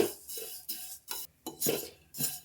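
Vermicelli frying on a low to medium flame is stirred in a pan, giving soft intermittent scraping and clinking strokes in an even rhythm, fairly quiet and close.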